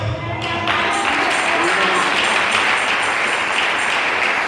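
A church congregation bursts into applause during a sermon, a dense, steady clatter of many hands filling the room from start to finish.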